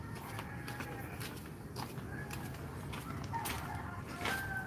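A rooster crows and clucks in short repeated calls against steady background noise at night. The calls are moderately faint, and no one speaks.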